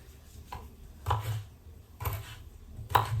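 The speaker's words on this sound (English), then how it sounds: "Again, carrots, not to peel them, just cut them lengthwise like that" A knife slices unpeeled carrots lengthwise, giving four crisp, close cuts roughly a second apart, each with a short knock on the board, with no talking.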